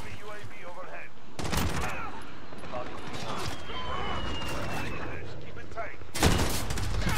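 Gunfire in Call of Duty Modern Warfare hardcore team deathmatch on the Rust map: dense game audio with two loud broadband bursts of shots, one early and one near the end, over continuous battle noise and talk.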